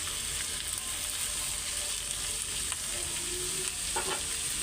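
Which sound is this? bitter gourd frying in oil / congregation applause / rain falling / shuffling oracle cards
bitter gourd frying in oil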